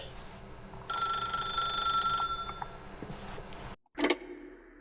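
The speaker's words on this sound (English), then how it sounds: "then pick up the phone." Telephone ringing in the video game The Stanley Parable, a sustained electronic bell tone for over a second, then fainter lingering tones and a sharp burst near the end, close and clear with no talk.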